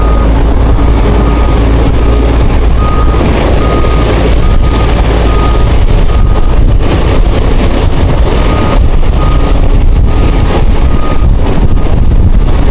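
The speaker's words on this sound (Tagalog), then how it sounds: "Malakas yung hangin mga buddy." Strong, steady wind roars without letup into the microphone at a fishing spot, a loud, constant low rumble buffeting the mic throughout with no clear talk.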